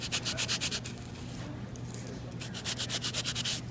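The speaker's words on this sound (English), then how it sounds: "give that a little sanding with nothing more than just an emery board from the beauty supply" An emery board from a beauty supply is rubbed over a gilded metal foil craft piece in quick bursts of scratchy strokes, then pauses briefly and starts another run of rhythmic rubbing. It sounds close and fairly quiet, with no voice heard.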